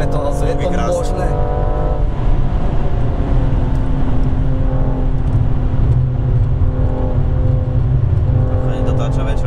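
A BMW M235i F22 engine revs hard and loud throughout, a steady harmonic drone rising and falling with throttle, with people talking over it inside the car.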